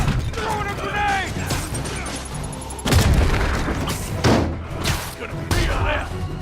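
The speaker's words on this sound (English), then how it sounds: "Throwing a grenade!" A grenade blast in Marvel's Spider-Man game combat, heavy booming bursts landing over a dense bed of fight noise and music, with characters' voices shouting throughout.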